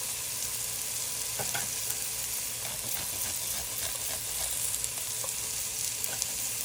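Three cloves of garlic frying in a pan for chicken biryani, a soft even sizzle with light scattered crackles and stirring sounds, steady and unbroken throughout.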